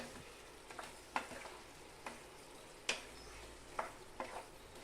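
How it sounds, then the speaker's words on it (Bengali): Chilli chicken with tomato sauce being stirred in a pan, faint frying hiss beneath roughly half a dozen spaced spoon scrapes and taps against the metal. "সমস্ত কিছু ভালো করে মিশিয়ে নেব"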